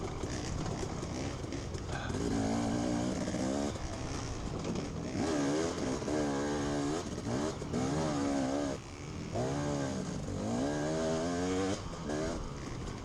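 Dirt bike engines, KTMs among them, rev and drone at a hare scramble, rising and falling in repeated bursts of acceleration over steady outdoor noise.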